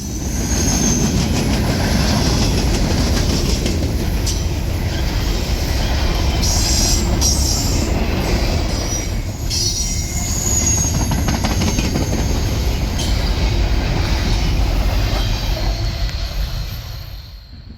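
A Norfolk Southern freight train, symbol 16R, rolls along the D&H line on a sunny morning, a steady close rumble of rail cars with wheel squeal and clatter running the whole way before easing slightly at the end.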